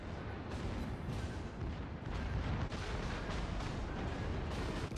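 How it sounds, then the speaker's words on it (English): Heavy naval gunfire from the Yamato battleship in World of Warships: a dense, continuous rumble of big-gun booms and blasts that stays loud for the whole stretch, with no talk over it. "Broadside from the Yamato?"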